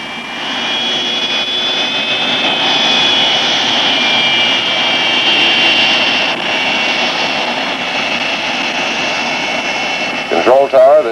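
Jet engines of a Boeing B-47 bomber whine and roar in a loud, steady drone with high tonal whistles running throughout, and radio-style speech breaks in near the end.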